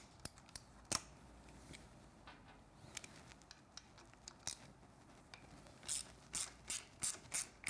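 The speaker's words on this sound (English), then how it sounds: "Now using a T30 Torx, I'm going to undo this screw and that screw." A T30 Torx driver undoes screws on the handlebar controls of a Triumph Street Twin motorcycle. Sharp ratcheting clicks come in scattered single ticks, then a run of louder, evenly spaced ratchet bursts near the end, with no talking.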